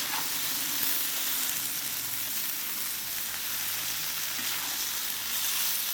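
Red and white beans with sausage and bacon fry in a kazan, a steady close sizzle and crackle with faint stirring scrapes underneath, continuous and without talk.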